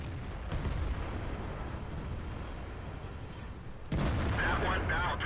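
A tank cannon in World of Tanks fires with a sudden loud boom near the end, after a steady rumbling engine drone and battle noise.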